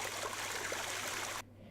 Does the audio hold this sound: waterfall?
yes